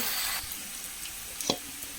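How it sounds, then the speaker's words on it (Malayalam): Crushed shallots and curry leaves frying in oil in a pan, a soft continuous sizzle with a single sharp utensil clink near the middle, no talking. "നമ്മുടെ ഉള്ളിയൊക്കെ ഒരുവിധം മൂത്ത് വന്നിട്ടുണ്ട്"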